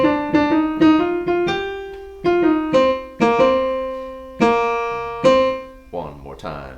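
A solo instrument plays the first four bars of a jazz tune as a clear, close melody of plucked-sounding notes with repeated short phrases and longer held tones, ending in a brief vocal murmur.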